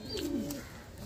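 A single soft, low coo from an Andhra line pigeon being handled, close and quiet, with faint background noise.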